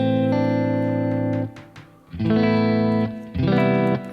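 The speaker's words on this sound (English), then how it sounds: "So you can turn a delay into some kind of reverb with a maximum setting of snare" An electric guitar through a Kemper Profiler delay with the snare setting at maximum, the repeats smearing into a reverb-like wash; sustained chords ring out, fade, then two more chords swell in with a dense trailing tail.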